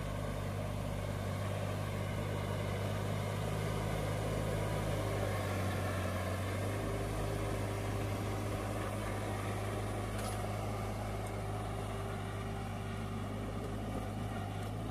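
A mini tractor pulling a single-furrow plough through heavy, lumpy soil, its engine giving a steady low droning hum with a constant tonal note, running continuously at a moderate level with no talk.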